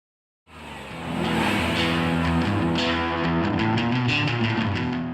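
An old Lada car engine starts up abruptly and runs with a loud, buzzing harmonic drone, its pitch shifting slightly as it revs, close to the microphone.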